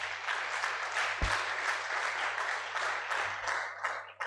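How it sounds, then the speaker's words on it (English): Sustained audience applause after a distinguished alumni lecture, a dense wash of many hands clapping steadily throughout, fairly even in level with a few louder individual claps standing out near the end. "let's give him another round of applause"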